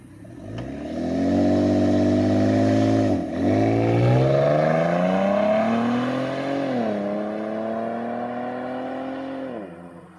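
Ford Taurus SHO with a muffler-deleted stock exhaust accelerating hard from idle, a loud raw engine note climbing in pitch through a couple of gear shifts, close and alone with no talk.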